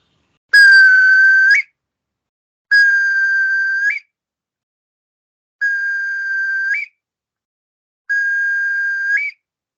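An Acme bird-call whistle imitating a curlew sounds four long, steady piercing tones, each ending in a short upward lift, separated by clear silences, close and loud with no voices.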